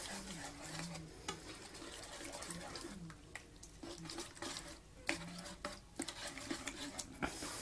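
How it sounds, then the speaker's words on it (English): A spatula stirs spaghetti sauce with vegetables and sausage around a pan, making irregular scraping clicks and knocks over a low, steady sizzle. "So now just stir that around."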